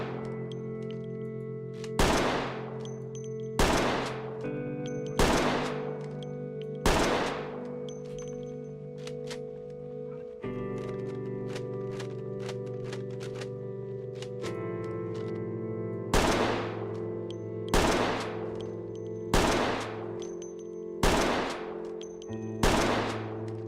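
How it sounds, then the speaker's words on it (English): Rifle shots in the zombie survival game Project Zomboid, out in a big open area: about a dozen sharp, loud reports fired one at a time at a steady, unhurried pace over a continuous humming ambient drone, with a pause midway. "Let's get into a big open area and use a rifle."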